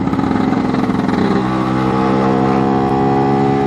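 A new two-stroke engine being run in during break-in revs up loud and close, a buzzing mid-pitched drone that climbs and then holds steady through the revs, with no talking.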